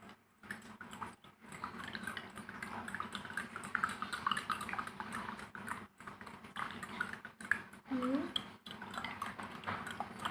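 A spoon clinks and scrapes inside a glass, stirring sugar into water in short irregular bursts, close by and fairly quiet, with soft background noise.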